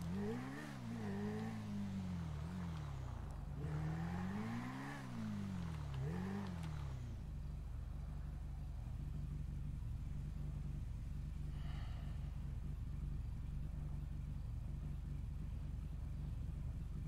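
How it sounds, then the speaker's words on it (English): Several cars drive past with loud, close engine rumbles that swell and fade in succession, followed by a steady low road drone. "I hear cars."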